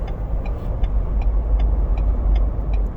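A Ford Bronco accelerates onto the freeway, its engine and road noise forming a steady loud low rumble with faint repeated ticking, heard from inside the vehicle with no talking.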